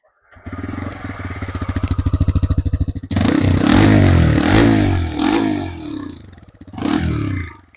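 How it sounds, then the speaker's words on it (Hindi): A TVS Raider iGO motorcycle engine and exhaust: a close, loud idle with a rapid regular thump, then sharp revving bursts that rise and fall, and a final short rev. "तो मैं आपको इसका इंजन नोड सुनाता हूँ अपने माइक से"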